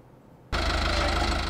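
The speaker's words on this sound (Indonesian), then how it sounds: "Sebuah traktor baru tiba di ladang Hello Tractor di Kenya" A tractor engine starts running abruptly on a farm field in Kenya, a loud, steady, knocking mid-pitched drone close by after a brief quiet moment.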